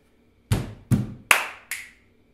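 Body percussion at an all-ages jam session: four crisp, separate hand claps in an even rhythm, close and clear, each with a short decay, and no talking.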